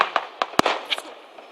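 Fireworks burst over a small town in Bulgaria, a string of sharp cracking pops at uneven intervals, one especially loud bang in the middle, fading to a faint crackle.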